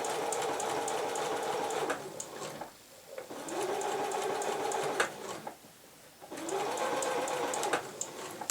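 Sewing machine stitching an invisible zip with an invisible-zip foot, three sustained whirring runs broken by brief pauses, close and clear with no voices.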